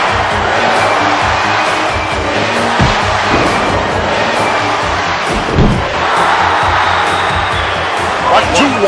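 A capacity wrestling crowd cheers and roars loudly throughout, a dense continuous swell of voices with bursts and thumps, while a commentator talks over it.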